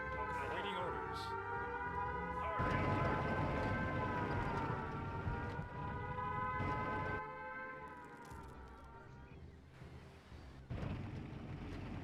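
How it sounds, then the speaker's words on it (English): Air raid siren wailing in the Empire Earth strategy game, a sustained rising and falling tone that runs loud for most of the stretch, sitting over game ambience and a voice talking, then easing off toward the end. "now you do the air raid siren after the bombers had already gone and left"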